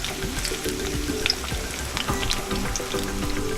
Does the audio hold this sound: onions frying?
yes